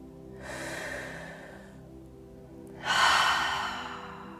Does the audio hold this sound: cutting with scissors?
no